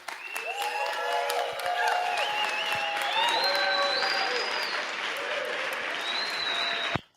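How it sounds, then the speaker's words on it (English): Conference crowd applauding a speaker, a dense sustained roar of clapping with whoops and cheering voices rising over it, lasting about seven seconds before cutting off abruptly. "I just want to let him hear the crowd here."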